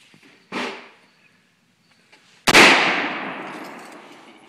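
Two sharp AR-15 rifle shots fired at a can, loud and close, the first short and the second louder with a long ringing decay and echo trailing off.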